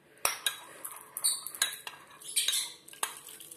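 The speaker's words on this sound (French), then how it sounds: "Je vais rincer mon petit récipient" A small container and a spoon being rinsed after mixing black-soap laundry detergent: a series of sharp metallic clinks and taps, close and fairly loud, at an uneven pace with short gaps between them.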